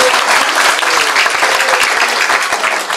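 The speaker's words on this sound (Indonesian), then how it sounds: "Kita kasih tepuk tangan dulu dong" A crowd at a humorous Islamic sermon gathering gives loud applause, a dense, continuous roar of many hands clapping close by, lasting throughout.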